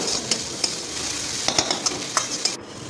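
Potatoes, carrots and beans fry in a pan for Egg Maggi while a utensil stirs them, giving a steady sizzle with several short scraping clinks spaced through the stretch, close and fairly loud, with no voices.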